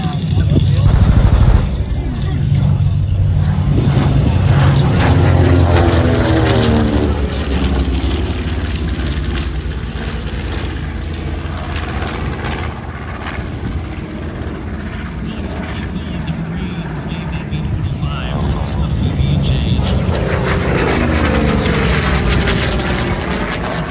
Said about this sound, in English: Designed as a medium bomber, quickly became a strafer out of the South Pacific.